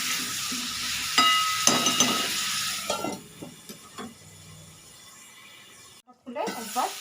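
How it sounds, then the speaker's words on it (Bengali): Salted fried prawns and onions sizzle loudly in a pan as a spatula stirs and scrapes, the hiss fading as the pan is covered, then a brief clatter of the lid near the end. "একটু নেড়ে ফেলে ঢাকা দিয়ে দেবো।"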